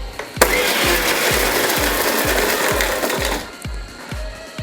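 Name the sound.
mixer blender pulsing egg to make mayonnaise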